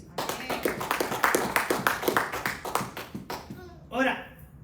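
Church congregation clapping hands in praise during a Christian sermon, a run of quick rhythmic claps fading out, followed by a brief voice at the end.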